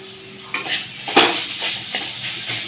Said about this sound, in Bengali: এবার এটাকে দিয়ে বেশ কিছুক্ষণ আমি ভালো করে নাড়াচাড়া করে নেবো